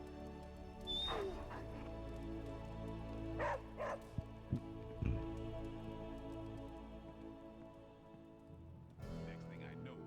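A dog in a video game gives a few short yips and whimpers over steady game music, with brief louder bursts near the start, middle and end.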